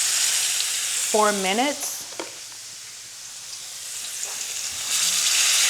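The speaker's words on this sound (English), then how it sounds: "I'm using my cast iron skillet. And I'm just gonna go ahead and let these fry for about" Stuffed salmon frying in a cast iron skillet, giving a close, steady sizzle that dips midway and swells again, while a person speaks briefly over it at the start.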